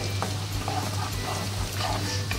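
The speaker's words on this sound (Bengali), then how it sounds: "পেঁয়াজটা আমার ভাজা হয়ে এসছে" Chopped onions fry in a pan, a soft continuous sizzle with occasional stirring scrapes, quiet and close with no talking.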